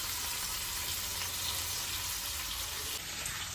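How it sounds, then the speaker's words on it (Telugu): Dry prawns fry for a gongura curry in a pan, giving a steady, dense sizzle that holds at an even level throughout with no voices. "కొంచెం ఎర్రగా వేయించుకుందాం. బ్రౌన్ కలర్, లైట్గా బ్రౌన్ కలర్ వచ్చేంత వరకు వేయించుకుందాం."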